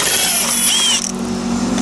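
Power tool driving out bolts on a Stihl 660 Magnum chainsaw cover, a loud close whine that drops in pitch partway through the short burst.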